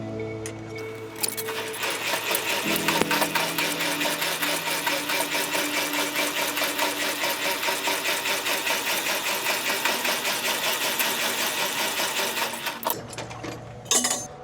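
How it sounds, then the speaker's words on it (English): Crank handle turning to raise the landing gear on the rear trailer of a doubles truck rig, a steady close ratcheting, clinking mechanical rhythm running for about twelve seconds with no talk. "now I'm going to roll up the landing gear"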